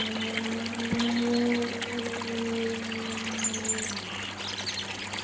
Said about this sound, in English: So the water's just coming over the skimmer.